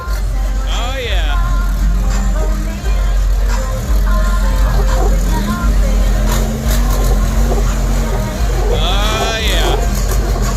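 A Chevy mega truck fitted with a Cummins diesel engine on big tires at a muddy Florida event, rumbling loudly and steadily the whole time, with a crowd and voices talking over it.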